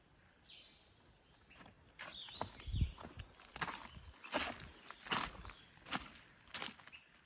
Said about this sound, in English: It's hard to tell when the birds get into the leaves. They make quite a big sound